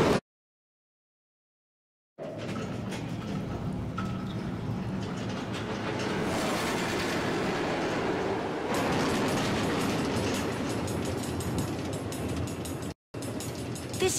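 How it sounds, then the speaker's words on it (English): A train runs along automated tracks through the Nether in Minecraft Story Mode: a steady, loud rumbling clatter with rhythmic rail clicks lasts about eleven seconds after a silent opening, then cuts out briefly near the end. "Automated train tracks running all through the Nether, connecting all the different Order members?"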